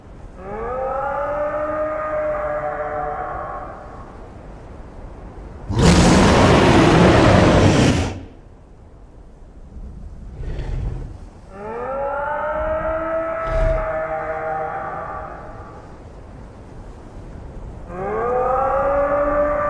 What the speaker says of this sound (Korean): 건너편 숲에서 들려오는 암컷의 소리.